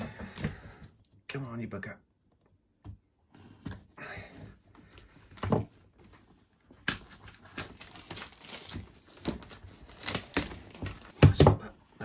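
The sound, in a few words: unpacking DJI Mini 3 Pro drone from its packaging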